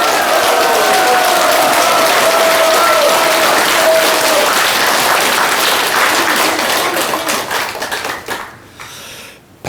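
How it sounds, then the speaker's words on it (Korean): Large audience of about a thousand conservative supporters applauds at a political lecture in Daejeon, a dense, loud wash of clapping that sustains for several seconds, then thins out and fades near the end. "박수 치시는 거 보니까"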